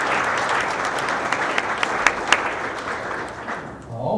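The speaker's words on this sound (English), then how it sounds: "Let's give everybody a round of applause." An audience at a Man and Woman of the Year awards evening breaks into sustained applause, dense steady clapping filling the room and tapering off near the end.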